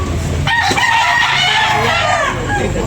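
A rooster crows loudly and close by at a chicken market in Tabunok, one long strained call over a steady background murmur.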